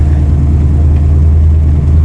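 A 1970 Chevrolet Impala with a 406 small-block V8 rumbling along a gravel road, a loud, steady low engine drone heard up close from inside the car.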